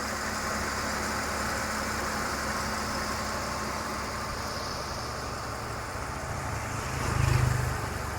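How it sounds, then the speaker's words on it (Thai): A Jeep Cherokee engine runs steadily at idle with a constant hum, and a brief low surge swells near the end as the AC compressor kicks in. "เสียงการทำงานของเครื่องยนต์นะครับ ทั้งตอนแอร์ตัดและคอมทำงานนะครับก็ปกตินะครับ"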